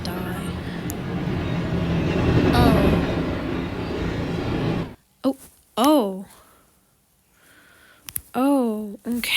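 Train rumbling past in the video game Trains vs Cars, a loud broad roar that builds and then cuts off abruptly, followed by bursts of a person talking.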